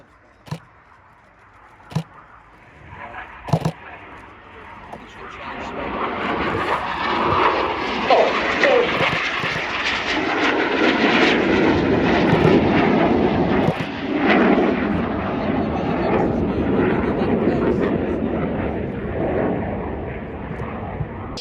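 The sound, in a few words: RAF Red Arrows jets flying display, barrel roll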